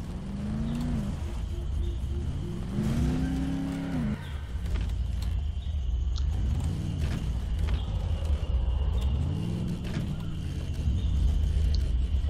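Car engine rumbling in the zombie video game Dead Island, a steady low drone with rising and falling revs as the vehicle turns, loud and continuous throughout.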